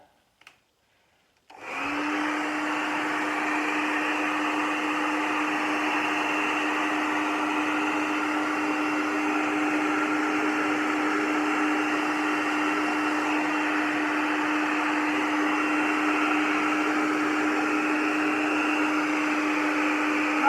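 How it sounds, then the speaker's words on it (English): After a brief quiet moment, a hair dryer switches on and runs loudly and steadily with a constant whirring hum that never lets up. "Handy hairdryer."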